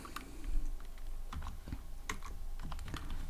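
Computer keyboard typing, a quick irregular run of crisp key clicks at close range, heard without any talk.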